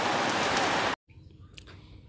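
Sudden rain pours down over paddy laid out to dry, a dense steady hiss that cuts off abruptly after about a second, leaving a quiet, faint background.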